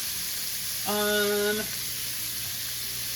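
Two tablespoons of butter in a skillet over medium heat gives a steady, soft sizzle and hiss, with a brief tonal whine partway through.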